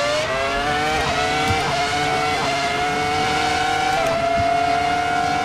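A Ferrari F2004 Formula One car with a high-revving V10 screams around Silverstone in Assetto Corsa, its pitch climbing steadily through gear changes, loud and continuous with no talking.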